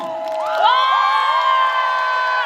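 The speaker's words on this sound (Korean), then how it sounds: "다시 한번 큰 박수" An audience at a Korean song festival opening stage cheers and whoops, with a swelling shout of crowd voices over light applause, loud and close for a short burst.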